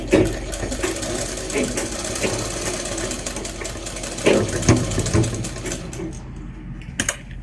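An electric sewing machine stitching the lining of a kurta, with a rapid, mechanical chatter in short runs and brief pauses, sounding close, along with soft handling noises.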